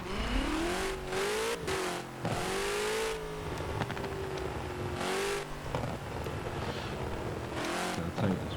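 Ford GT40 Mark 1 race car engine in a Le Mans event in Forza Horizon, revving hard with rising and falling pitch sweeps as gears shift, loud and continuous across the run.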